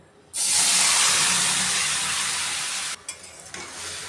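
Flat beans hit hot oil in a pan for a vegetarian vegetable dish and set off a loud, sudden sizzle. The hiss holds steady, then breaks into a few stirring clatters near the end.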